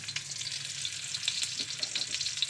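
Liver and onion sauté in a hot pan, a continuous bright sizzle with stirring scrapes, close and moderately loud, with no talking.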